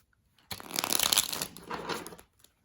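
A deck of tarot cards is shuffled close up in a quiet room, a dense riffling flutter running for over a second, pausing briefly, then a second softer burst.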